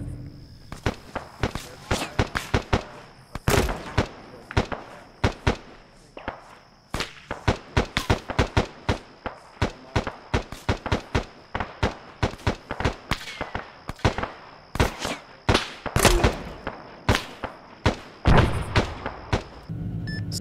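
Rocket strikes pound a street in Arma 3, a long irregular barrage of sharp, loud explosive cracks, some clustered in rapid runs, over a steady faint hum.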